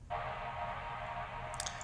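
A pitched-down atmospheric sample from the Vengeance FX 2 pack, played forward, swells in suddenly as a dense, airy wash. It holds steady and fairly quiet, and a few light high glints appear near the end.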